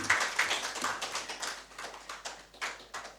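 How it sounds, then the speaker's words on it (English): Scattered audience applause at a formal economic forum. Irregular claps from a modest group fade and pick up again, moderately close and fairly quiet. "I believe the chairman and the committee deserve another round of applause"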